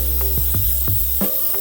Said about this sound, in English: I'm gonna spray it with a good cleaner.